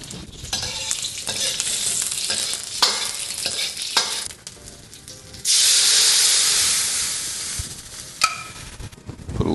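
Orange beef sauce sizzles and bubbles in a hot wok while being stirred, with a steady frying hiss, scraping strokes, and a louder burst of steam partway through, close and without talk.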